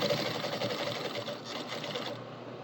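A sewing machine runs steadily while top stitching a fabric edge at a quarter-inch seam, a continuous quiet whirring hum that fades slightly near the end.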